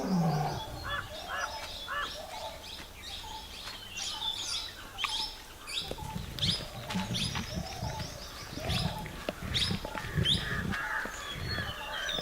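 Tigers feed at a kill in the jungle while jungle crows caw repeatedly nearby; harsh bird calls come in bursts throughout, joined later by low growling and rumbling sounds close at hand.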